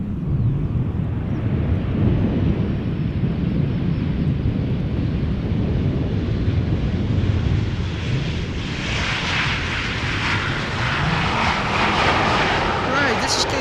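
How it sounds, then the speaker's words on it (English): Boeing 777-200 taking off on a parallel departure bound for Bangalore, a loud sustained jet engine roar with broadband rumble that stays strong throughout and brightens toward the end as the aircraft passes. "parallel departure of a... what is it? 777-200 to Bangalore"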